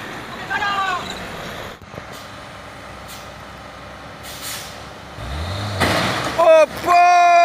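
A trailer truck strains up a steep hill with a low laboring engine drone and a hiss of air brakes, while a vehicle's engine revs rise and horns blare toward the end, and people talk over the scene.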